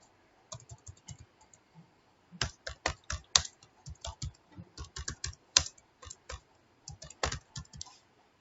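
Typing on a computer keyboard while entering a voucher in TallyERP9 accounting software: close, crisp keystroke clicks in irregular bursts with short pauses between them, heard alone against a quiet background.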